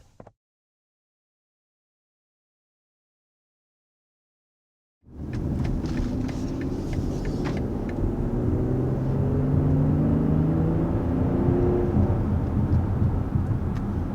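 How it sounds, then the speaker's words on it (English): A BMW X5 midsize SUV accelerates after a few seconds of silence, a steady low engine and road rumble building from inside the cabin with some faint clicks early on and a gradually rising engine tone. "there we are, just accelerating up in this X5"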